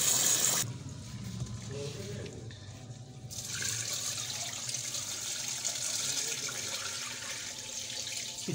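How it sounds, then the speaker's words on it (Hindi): Chickpeas being washed in water to rinse out impurities, heard as a close, continuous splashing and running-water wash, louder at the start and then steady and moderate to the end. "इसको अच्छे से धो लेना ताकि इसके अंदर जो भी इम्प्योरिटीज़ हो वो सारी अच्छी तरह से धुल जाए"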